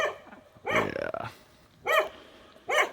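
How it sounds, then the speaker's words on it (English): A dog barks loudly and close by, three or four sharp barks with pauses between them, one run of barks blending into a growl. "barking at a bad bird"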